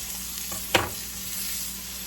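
Onions and cherry tomatoes sizzle in brown butter, a soft, steady close hiss with one brief sharper spatter or clink near the start and no talk.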